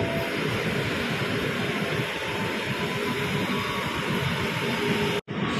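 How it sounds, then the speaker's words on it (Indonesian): Steady broadband rumble and hiss at a KRL commuter train station in Sudirman, Jakarta, a continuous rail and crowd background with no clear voices, cutting out abruptly near the end. "ini stasiun KRL Sudirman nih"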